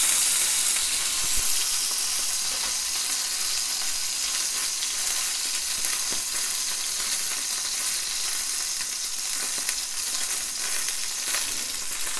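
Chicken breast sears in a hot pan with a steady, dense sizzle and crackle. It is close and fairly loud, runs unbroken the whole time, and has no voices over it.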